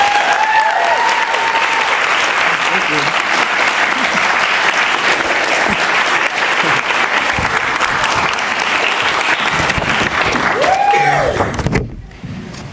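Loud, sustained applause from a graduation ceremony audience welcoming Professor Sam Bullington to the podium, steady dense clapping that fills the room for about twelve seconds before quickly dying away.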